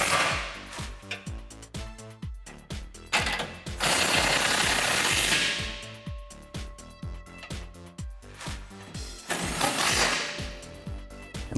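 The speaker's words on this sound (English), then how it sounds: "go ahead and tighten them up using a 18mm socket" A ratchet with an 18mm socket tightens exhaust bolts on a Jeep Gladiator JT while a Flowmaster dual exhaust is fitted, rapid clicking runs alternating with a louder sustained burst, close and clattery throughout.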